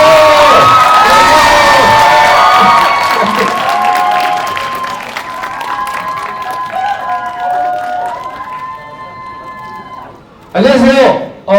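A loud crowd at a cinema stage greeting for the basketball film Rebound cheers with high shrieks and whoops over applause, easing slightly midway before a voice cuts in near the end.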